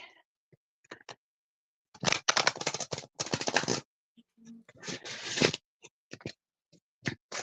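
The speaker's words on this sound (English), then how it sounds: "One more shuffle and you'll have your card." A deck of oracle cards is shuffled in bursts of dense, crisp riffling and flicking, with two long loud runs between scattered ticks and card taps.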